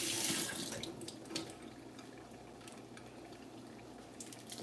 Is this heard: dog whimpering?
no